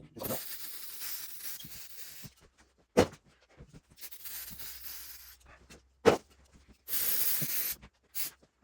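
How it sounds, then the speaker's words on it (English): Carb cleaner sprays onto Benford 32D dumper gearbox parts in several hissing bursts of a second or two each, broken by short gaps, clinks and a couple of sharp knocks. The sound is close and fairly quiet. "I'm gonna have to use carb cleaner."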